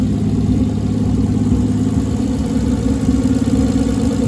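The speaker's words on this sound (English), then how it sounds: "That nice 1000 RPM we got going." A turbocharged Toyota 2JZ-GE inline-six idles steadily at about 1000 RPM, a loud, close, even low rumble with a smooth pulsing rhythm and no revving.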